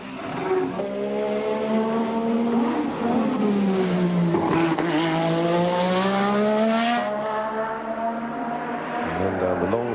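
A Formula 1 turbo-era race car drives on a track on cold tyres, its engine a loud, steady, close droning whine that rises and falls in pitch as it slides through corners, running continuously throughout.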